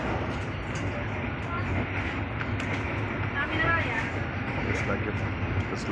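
Interior rumble of a moving passenger train in Indonesia, a steady low rolling noise with faint rail clatter throughout, people talking over it.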